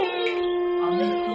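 Dogs howl at night in one long, steady, wailing tone that rises and falls slightly, close and fairly loud, with another voice faintly in the background.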